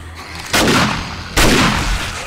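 Gunfire in the video game 7 Days to Die during a horde attack: two loud, close shots a little under a second apart, each followed by a long rumbling decay.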